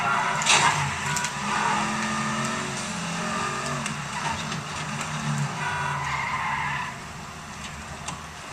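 A Camaro driving in an open-world video game, engine droning steadily with tires skidding and squealing through turns, fairly loud and continuous with no talk over it.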